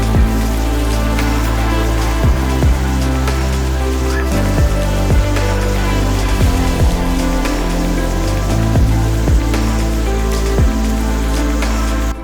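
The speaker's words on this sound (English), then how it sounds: "Got quite rainy." Rain falls steadily during a bike ride in the Alps, a loud, constant hiss of drops hitting close surfaces with no break and no voices.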